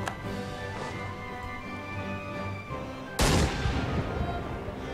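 Naval battle cannon fire in the strategy game Europa Universalis IV rolls on as a dense, continuous rumble of distant booms over a steady music bed, then surges into a louder, harsher volley near the end.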